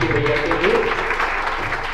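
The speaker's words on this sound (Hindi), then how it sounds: "जोरदार तालियां यूपी भैया के लिए" An audience at a religious devotional gathering claps steadily while a voice speaks over the applause.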